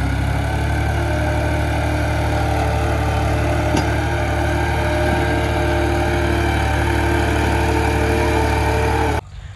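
A Balwan tractor engine runs steadily, loud and close, with a continuous low drone and a rattling mechanical hum that stays even for about nine seconds before it cuts off abruptly; no talking.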